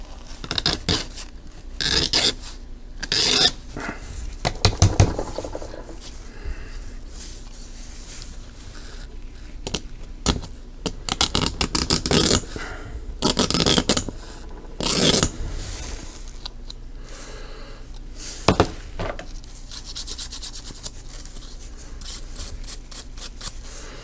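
Scraping and rasping on a small plastic part of a 1/48 scale Revell Monogram model kit, clearing cut residue left by a scribing needle; close, intermittent bursts of scratchy strokes separated by brief pauses.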